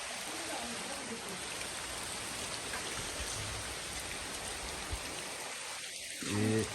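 Heavy rain pours down after falling for hours, a dense, continuous hiss of drops on surfaces, with a brief voice entering right at the end.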